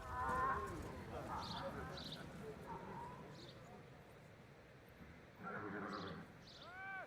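Horses whinny and neigh in a medieval video game battle, with several rising calls at the start and again near the end over a faint, busy background, while voices talk throughout.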